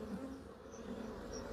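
Honey bees buzz steadily at an open hive during a swarm-cell inspection, a dense, continuous hum close by with no talk over it.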